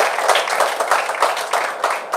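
Audience applause at a District 8 ribbon cutting ceremony: dense, steady clapping from a crowd, loud and sustained throughout with small surges, no voices standing out.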